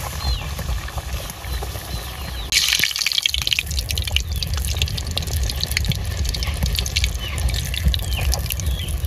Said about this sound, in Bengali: তেলে এবার লুচি ভেজে নিব।